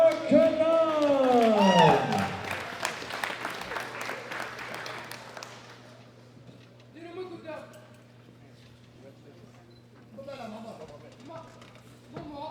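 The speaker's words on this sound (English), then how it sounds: "a big round of applause from Algeria, Othman" Audience applause breaks out for a new world record at a classic powerlifting championship, men's 93 kg open class, a moderate burst of clapping under an announcer's voice that fades to scattered claps and murmurs.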